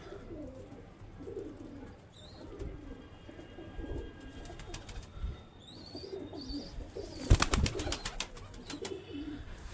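Soft coos of desi pigeons, including a female, murmur at low volume, with a few faint chirps overhead and a brief clattering burst near the end.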